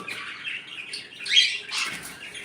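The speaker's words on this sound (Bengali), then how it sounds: "এই হচ্ছে আমার বাড়িতে পাখি" Sun conures and cockatiels call at a home bird farm in Bangladesh, a cluster of bright, shrill chirps and squawks rising and falling close by.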